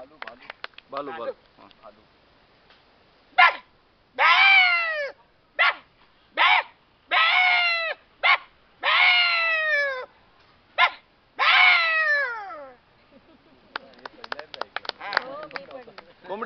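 A person imitates a hen sitting on eggs, making a series of about nine loud, drawn-out clucking squawks with pauses between them, close to the listener. Softer rustling and a few voice sounds come before and after.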